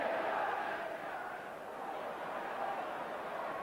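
Celtic supporters cheer and roar after a goal in a 1990 football match against Hibs, a broad, distant crowd swell that dips slightly and rises again.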